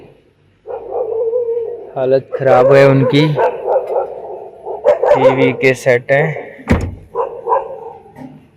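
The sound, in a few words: dogs barking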